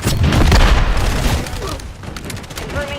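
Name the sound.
grenade explosion in a video game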